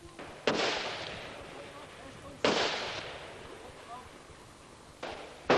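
Gunshots ring out on a computer-controlled shooting range, three sharp reports a couple of seconds apart with long reverberant tails, moderately distant.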